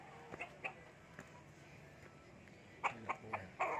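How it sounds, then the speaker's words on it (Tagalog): Chickens at a house in the countryside cluck faintly, with a few soft calls early on and a quick cluster of sharper clucks near the end over a quiet background. "Manok yan."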